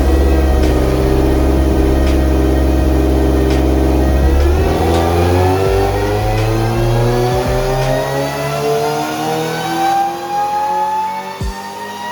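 A tuned car engine screams through a dyno run, holding steady high revs for several seconds before the pitch sweeps upward and falls as the throttle cycles, loud and close throughout.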